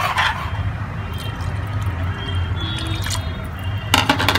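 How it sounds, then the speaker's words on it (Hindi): Water from a large glass poured into a pot of dal makhani, a steady liquid splash and trickle with small drips, fairly close, ending in a brief louder splash. "तो बस अब हम इसके अंदर डाल देंगे पानी"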